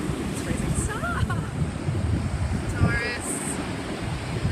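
Ocean surf rolls onto a cold beach in March, a steady wash of waves mixed with wind buffeting the microphone, with brief faint voices in the background.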